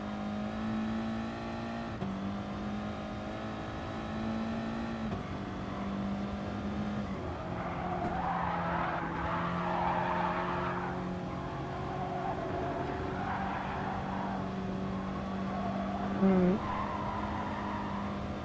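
Tires skidding under late braking in GT Sport, a racing car's steady engine drone with a squealing skid rising midway while a voice talks over it.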